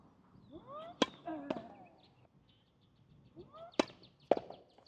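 Tennis serves struck during windy outdoor serve practice: sharp racket-on-ball impacts, about four in all, coming in pairs near the start and end, with faint wind and movement between them and no talk.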